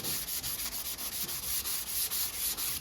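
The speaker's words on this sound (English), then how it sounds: "It's a finer sandpaper that's used up a little bit" A handsaw being sanded with fine, worn-down sandpaper: a steady, rhythmic back-and-forth rubbing, about five strokes per second, close and continuous with no talk.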